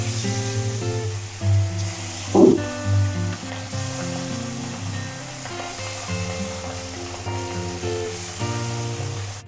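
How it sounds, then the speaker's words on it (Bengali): Pieces of fish coated in turmeric and salt frying in oil in a kadai, giving a steady close sizzle with a few louder pops and stirring bumps, over quiet background music. "মাছে হলুদ, লবণ আর কাঁচা তেল মাখিয়ে নিয়েছি। এবারে কড়াই ছেড়ে দেবো।"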